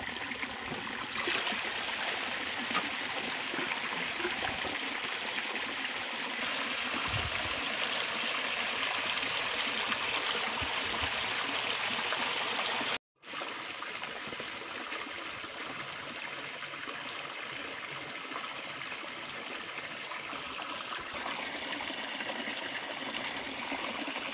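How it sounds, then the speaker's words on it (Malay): Water pours steadily into a tarpaulin pond with a continuous rushing, splashing stream that keeps up throughout, broken only by a momentary cut partway through. "Isi air sampai penuh."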